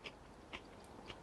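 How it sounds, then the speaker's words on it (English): Crunching bites into a fresh chili pepper, three short crisp crunches spaced about half a second apart, close and fairly quiet against a low background hiss. "Sorry for the crunching."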